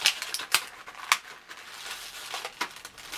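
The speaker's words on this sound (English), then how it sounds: "Let's quickly find an end that we can actually cut open. They put a lot of sellotape on this." Scissors snip through heavily sellotaped cardboard packaging of a NECA TMNT Donatello action figure, a series of close, sharp cutting crunches and rustles at irregular intervals.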